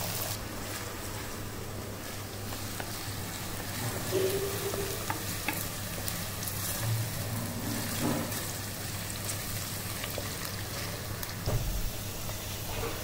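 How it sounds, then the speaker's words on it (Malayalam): Chopped ginger fries in a pan with a steady close sizzle that holds evenly for about thirteen seconds. A few brief stirring knocks break through it, and no voices are heard. "ദേ ഇപ്പം ഫ്രൈ ആയിക്കൊണ്ടിരിക്കുകയാണ്"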